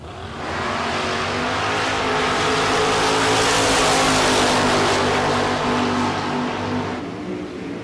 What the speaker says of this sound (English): Trinity Sandlin dialed at 636. Taking on Red Camaro.